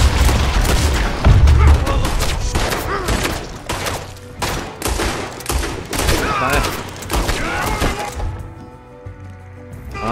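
Dense gunfire in Red Dead Redemption 2, a rapid volley of loud shots and booming thuds that thins out toward the end, mixed with game sounds and a voice speaking over it.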